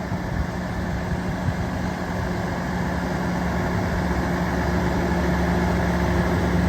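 The 8.3 Cummins diesel engine of a 2008 Sterling L7500 vacuum sewer cleaning truck idles steadily nearby, a constant low rumble and clatter with no talking.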